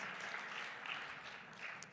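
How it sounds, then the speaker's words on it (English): A conference audience in Las Vegas applauds as a speaker is introduced, a soft, steady patter of many hands heard at a distance for the whole stretch. "A round of applause."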